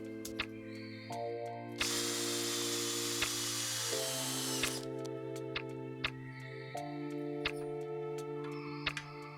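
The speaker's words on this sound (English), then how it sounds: "I'll mark and drill the holes." A power drill bores holes in forged metal chandelier straps, whining at changing pitches in stretches with a loud grinding burst midway, punctuated by sharp ticks and clicks.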